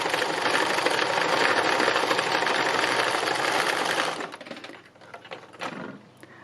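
A sewing machine stitches free machine embroidery with a loud, fast, continuous whirring. It stops abruptly and then a few quieter bursts of stitching follow.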